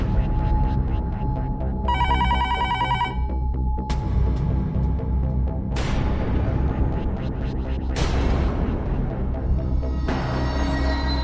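A landline telephone rings in repeated bursts with no one picking up, the bell tones loud and regular over a steady low hum and background noise.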